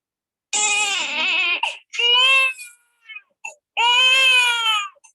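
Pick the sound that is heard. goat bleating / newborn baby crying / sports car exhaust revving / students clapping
newborn baby crying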